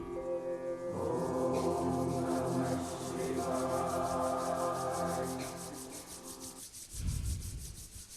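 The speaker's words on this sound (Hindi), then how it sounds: "अपने दोनों हाथों को रब कीजिए।" Two palms rub briskly together in a steady, continuous friction hiss lasting several seconds, set against soft sustained background tones, with no talking.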